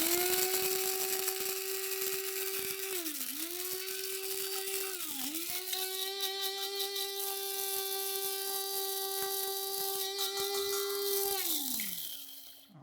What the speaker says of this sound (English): So we're going to go into the spice grinder with the toasted fennel. Going to grind the fennel seed up.